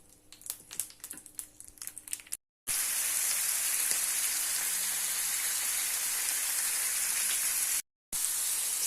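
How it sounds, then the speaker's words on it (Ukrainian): Liver and chicken fry in a pan for breakfast, a steady loud sizzle with dense crackling that starts abruptly after a few faint clicks and taps, and briefly cuts out near the end. "Ну і трошки підсмажу і додам сюди печінку, сюди курятину."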